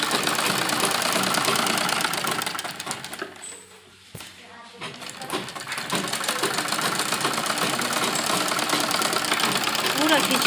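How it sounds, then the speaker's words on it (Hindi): A sewing machine runs in a fast, even mechanical chatter while stitching stretched elastic down the middle of fabric for a circular palazzo, pausing briefly in the middle before resuming loudly and continuously. "बीचों बीच एक सिलाई हम लगाएंगे"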